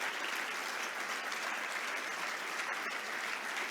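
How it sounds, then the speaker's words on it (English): Faint, even round of applause from an audience for the faculty at an executive education opening address, a continuous wash of clapping heard from a distance. "please help me also with a round of applause for our faculty for their support"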